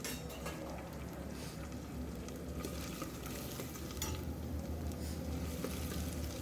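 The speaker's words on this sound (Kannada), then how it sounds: "ಚೆನ್ನಾಗಿ ಫ್ರೈ ಮಾಡ್ಕೋಬೇಕು" Onions with curry leaves frying in a pan for a Bombay-style potato sagu, a steady close sizzle with occasional stirring scrapes running throughout, no one talking.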